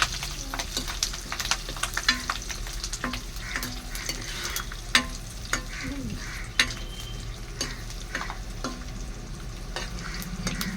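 Mustard and fenugreek seeds crackle and sizzle in hot oil as a tempering for sambar, with a spoon clicking and scraping against the pan in an irregular rhythm.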